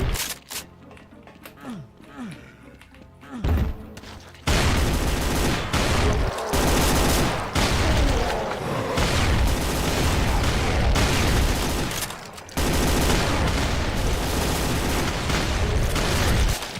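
Gunfire from a shotgun in the video game Factorio, with blasts from single barrels and then both barrels together, packed into a dense, loud stretch of rapid booming shots after a quieter opening.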